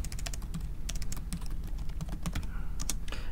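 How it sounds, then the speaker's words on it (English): Rapid, uneven keystrokes on a computer keyboard while entering a last name in a Word 2013 document, close and clear with no talking. "then you'll want to type your last name in front of that"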